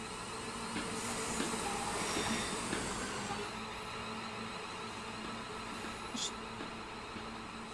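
A Class 350 electric multiple unit rolls into a station in Train Sim World 5, a steady rumbling, hissing wash of rail noise with a brief brighter squeal near the end, held at an even level throughout.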